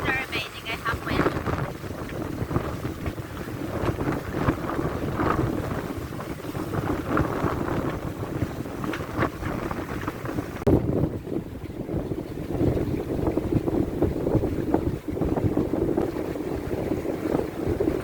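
Steady, loud wind buffets the microphone aboard a sailboat off Martinique, a continuous rushing roar mixed with water and hull noise for the whole stretch.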